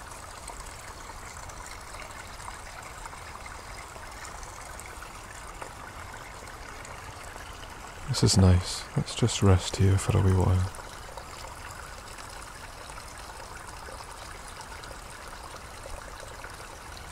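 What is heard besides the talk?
small waterfalls, water trickling in a stream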